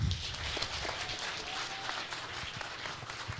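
An audience claps together in a continuous, lively burst, with a few voices and crowd noise mixed into the steady applause.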